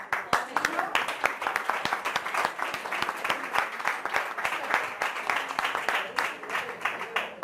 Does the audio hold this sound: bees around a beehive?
no